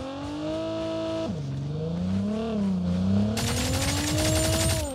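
A vehicle engine in the mobile shooter COD Mobile hums with a clear tonal whine that dips, then climbs steadily as it accelerates, joined midway by a brighter, louder rev layer; no talking over it.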